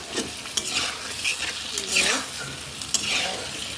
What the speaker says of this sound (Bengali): দিয়ে এবার আমি আলু কষাবো